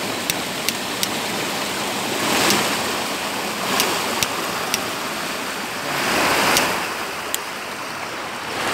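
A car pushes slowly through deep floodwater covering a street and curb in Chaves, with steady broad sloshing and splashing swelling in waves, punctuated by a few sharp ticks and knocks.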